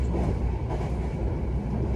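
The Argo Merbabu passenger train running from Pekalongan to Semarang Tawang in Indonesia, heard from onboard as a constant loud rumble and rolling drone with no talking.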